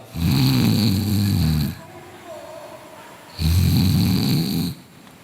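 A man imitates snoring with his voice, two long, loud, rasping snores separated by a short pause, close and clear with no other talk.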